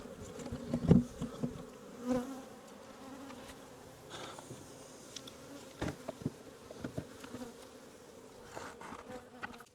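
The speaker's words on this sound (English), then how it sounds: "give them some of these bees I just shook" A dense swarm of honeybees hums and buzzes steadily around an aggressive hive nearby, with occasional louder bursts as insects pass close.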